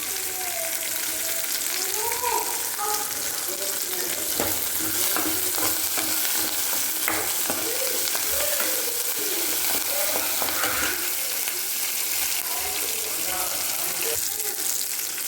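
Onions with curry leaves and cumin sautéing in hot oil, a steady close sizzle with stirring scrapes running throughout, and no speech.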